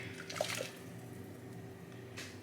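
Water poured into a kettle to make a lavender infusion gives a short splashing burst near the start, then fades to a quiet, steady background hum.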